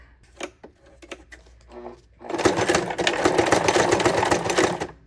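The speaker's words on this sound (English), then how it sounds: "I'm just gonna go back as far as it'll let me go back" A sewing machine stitches along the edge of sewn journal signatures in a paper shopping-bag journal, starting after a few light clicks and handling taps and then whirring loudly and steadily for nearly three seconds.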